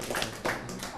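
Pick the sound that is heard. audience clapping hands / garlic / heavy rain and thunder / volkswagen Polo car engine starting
audience clapping hands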